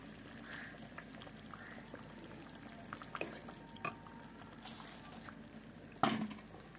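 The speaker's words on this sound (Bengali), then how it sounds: "মাছ, ধনিয়া পাতা সব একসাথে ঢেলে দিলাম" Katla fish pieces and coriander leaves tipped into a pan of simmering fish curry with potatoes, producing faint liquid splashes and a low bubbling hiss, then a sharper clatter near the end.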